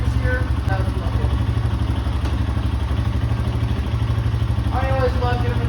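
A Honda CRF150F dirt bike engine idles after an oil change with a steady, close, rapid putter and light mechanical clatter, while people talk briefly over it.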